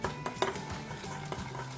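A spoon clinks and scrapes against the side of a bowl while stirring pancake batter, in quick, uneven strokes, close up and fairly quiet.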